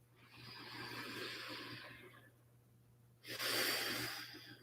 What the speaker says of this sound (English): you can just simply take a breath in and out